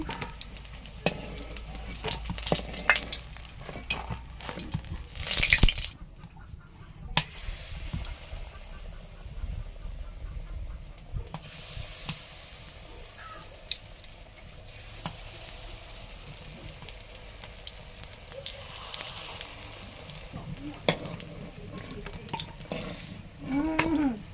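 Bottle gourd flower fritters in besan batter sizzle steadily in hot oil, a continuous crackling hiss with occasional clinks and stirring sounds of a spoon against the pan.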